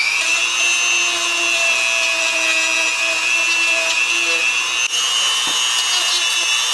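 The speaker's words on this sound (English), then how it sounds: "I'm going to take my Dremel tool and I'm going to sand this thing" Small Dremel rotary tool sanding a cut on a plastic hoop, a steady high-pitched whine held at a constant pitch, close and alone, with a brief dip near the end.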